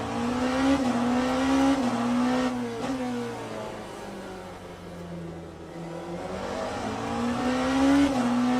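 A simulated race car engine in Le Mans Ultimate during practice at Portimao revs up and drops back as the driver brakes for the corners, a steady loud engine drone with rising and falling pitch throughout.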